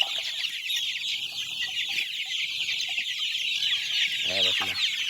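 Chickens cluck and call at feeding time on a farm, a steady chorus of hens close by with brief louder bursts near the end.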